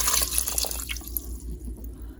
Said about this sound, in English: I'm just going to pour some water.